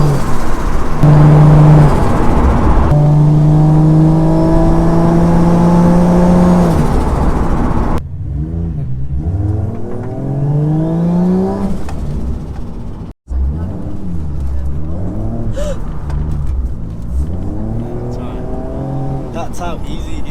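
A turbocharged 1JZ Toyota Soarer revs loudly and up close, its engine climbing through rising pitch sweeps as it accelerates and slides. After a brief cut there are more rev cycles, with talk over the engine.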